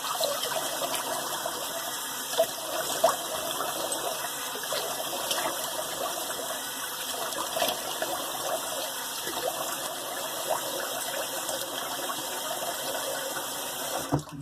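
Water runs steadily from a tap into a sink for a cold rinse after a shave, a continuous splashing rush with a few small clinks, close by and with no talking.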